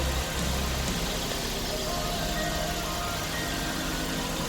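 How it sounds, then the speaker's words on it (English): A car engine idles steadily, a continuous low rumble with a faint mechanical hum, close by and unchanging throughout. "Engine sounding good."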